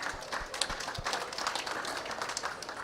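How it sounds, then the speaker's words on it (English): Conference audience applauding a panel at COP29, a steady patter of many hands clapping at moderate distance, continuous throughout without voices over it. "Now I would like to invite you to give a round of applause for this last panel and the two panels before"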